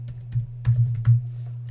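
A few sparse keystrokes clack on a computer keyboard as HTML code is typed, standing out over a steady low electrical hum.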